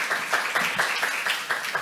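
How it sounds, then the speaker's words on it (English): An audience at a technical session on domestic and overseas listing strategy claps for a speaker, a brief burst of fairly close, rhythmic applause from a modest crowd. "please give another round of applause to Mr."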